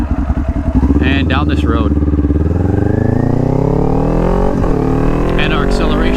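Motorcycle engine revving hard with quick rev-matching blips during downshifts, then a long, steady climb in pitch under acceleration, loud and close on the road, with someone speaking briefly over it.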